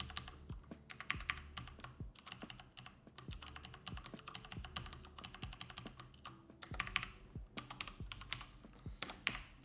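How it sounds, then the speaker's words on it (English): Fingers type on a clicky mechanical computer keyboard, sharp close clacks in irregular bursts with brief pauses, heard alone without talk. "Sorry if this is too clicky for you guys also. I have a mechanical keyboard"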